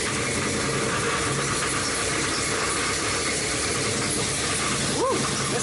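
A car engine with an aggressive cam idles nearby, a steady rough rumble with hiss under it, and a brief whoop of a voice near the end.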